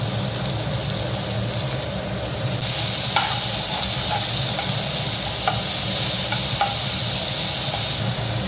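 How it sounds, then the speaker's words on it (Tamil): Finely chopped onions and garlic sauté in a pan for a masala sundal, a steady close sizzle with occasional stirring clicks and scrapes running throughout. "வெங்காயம் பொடியாக கட் பண்ணி வச்சுக்கிறேன். அது போட்டு வதக்கலாம்."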